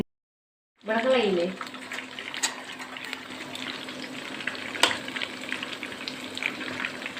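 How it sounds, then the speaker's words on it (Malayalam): Okra fritters sizzle steadily in oil over a low flame, a constant close frying hiss that starts abruptly and runs throughout, with faint voice in the background. "ഞാൻ പൊരിക്കണത് തീ സിമ്മിലിട്ടിട്ട് വേണം പൊരിക്കാൻ"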